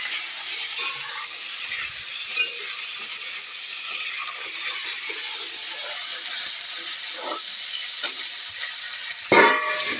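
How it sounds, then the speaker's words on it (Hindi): Potatoes and onion fry in oil in a pan, a steady bright hiss of sizzling running throughout with occasional faint stirring scrapes and a louder clatter near the end. "इसको हम आलू को भी डाल करके अच्छे से आलू को तल लेंगे"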